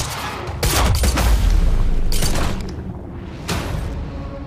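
Gunfire from a Quantum Break firefight comes as loud bursts of rapid shots and booms, with a few separate volleys broken by short lulls and no voices.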